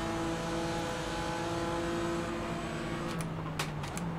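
Race car engine in the iRacing sim game, a loud, sustained high-pitched drone that climbs and holds, with a gear shift and brief clicks near the end and no talking.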